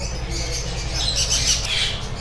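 Cockatiels and budgerigars in an aviary squawk and chirp, a close, loud, bright chatter of overlapping calls across the moment.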